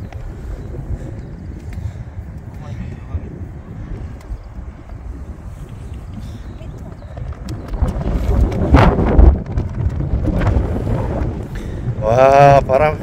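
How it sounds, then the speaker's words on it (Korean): Gusty wind buffets the microphone on a golf course green in Jeju, first as a low steady rumble and then as stronger blasts toward the end, with short spoken exclamations breaking in near the close. "와, 바람."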